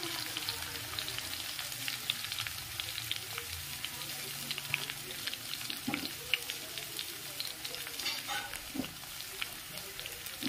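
Chopped onion frying in oil in a pan while cooking chole at home, a continuous dense sizzle with occasional louder bursts as the pieces are stirred, a faint watery hiss underneath.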